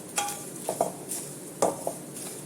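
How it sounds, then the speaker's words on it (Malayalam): Spice powders roasting in a pan over a low flame for homemade curry powder, with soft scraping stirs and a few light metallic clinks of a spoon against the pan, quiet and close, no talking. "ഇനി നമുക്ക് ഫ്ലെയിം ഓൺ ചെയ്ത് ചെറിയ ഫ്ലെയിമിൽ വെച്ച് ഒന്ന് ഈ പൊടികളുടെ പച്ചമണം ഒന്ന് മാറ്റാം"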